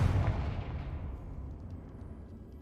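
A Confringo fire spell blasts in the video game Hogwarts Legacy, a single deep booming burst that decays over about two seconds.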